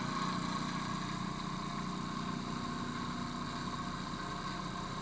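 A homemade pulse motor spins at high speed, giving off a steady, faint whirring hum with a fine buzzing texture, unchanging across the few seconds.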